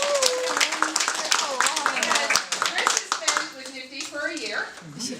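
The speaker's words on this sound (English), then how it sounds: "we want to give Chris a big round of applause" An audience claps at an event honoring a person, with brisk uneven claps rising and falling while voices talk over them, including what sounds like a voice.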